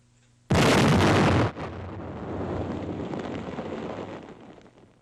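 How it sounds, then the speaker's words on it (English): A single loud blast from 500 pounds of TNT demolishing a concrete pillbox bursts out suddenly, then drops into a long rumbling roar of debris and wind that slowly fades. "The pillbox is completely destroyed by the explosion."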